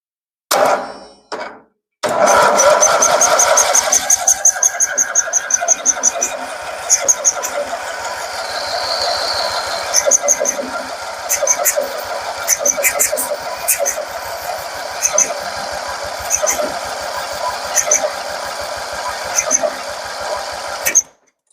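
A Gilson garden tractor engine, with choke and throttle on, is cranked over with its spark plug wire disconnected. It gives a fast, steady, rhythmic chugging whir that runs on for many seconds without ever catching.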